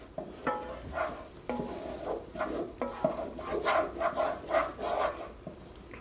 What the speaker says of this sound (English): Even after it looks like it's together, you want to continue to stir it a little bit